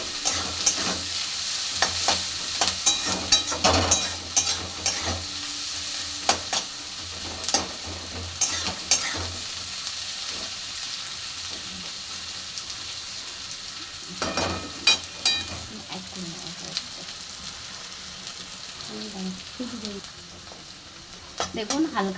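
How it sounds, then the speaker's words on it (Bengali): Onions frying in a pan, a steady soft sizzle with repeated scraping and stirring clatters from a spatula, close and moderately loud, no speech. "পেঁয়াজটা ভাজা ভাজা হয়ে যাবে যখন, হালকা বাদামি বাদামি"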